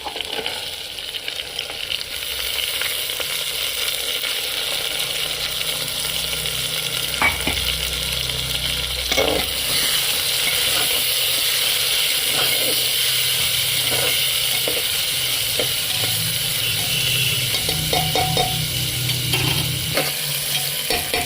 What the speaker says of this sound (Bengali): ডালটা ভালোভাবে তেলে নাড়াচাড়া হয়ে গেছে।